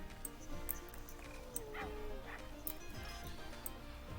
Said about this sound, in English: Here's some barking. Those might be from the Timberwolves.